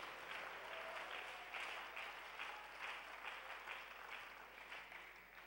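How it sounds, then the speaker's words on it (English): Congregation clapping hands during a sermon at a Wednesday church service, a sustained, even roar of applause from many people, heard faintly at a distance with no speech over it. "Clap your hands if you know his grace"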